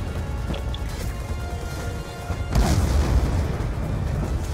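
Weapon fire and a heavy explosion in Call of Duty Black Ops II: a steady low rumble of battle noise, then a sudden loud boom that rolls on into continued rumbling.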